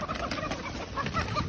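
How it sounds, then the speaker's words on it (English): Chickens and ducks in a chicken coop, with soft clucking and scattered bird calls over steady background noise throughout. "We got all of our chickens and ducks."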